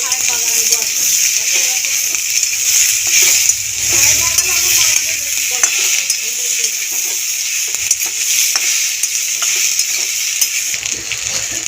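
Potatoes and kudri fry in a pan with onion, garlic and green chilli, a loud, continuous sizzle broken by scraping stirs and light clinks, with a voice talking over it.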